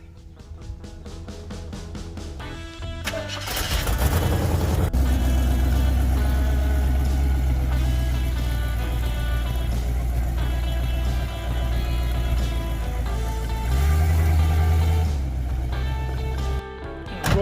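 A car engine starts with a few cranking pulses, catches and settles into a loud, steady idle and low rumble, with brief revving swells partway through as the car pulls in close by.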